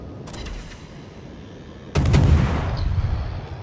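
Ship's guns on the destroyer Haida firing at the cruiser Myoko in a naval video game: a faint early report, then a loud, close booming salvo that rumbles on for over a second.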